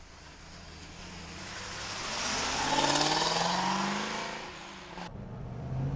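A 1973 Pontiac Firebird, a tribute to a 1972 455 HO, revs its engine with a rising then falling growl that peaks midway before dropping off sharply near the end, heard close with no talking.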